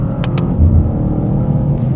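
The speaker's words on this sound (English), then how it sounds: "let's take the car for a drive and see what it's like" BMW G87 M2 with an S58 engine, Stage 1 ECU tune and CSL engine and gearbox mounts, driving with a steady, loud low engine rumble throughout and brief higher tyre or mechanical whooshes near the start.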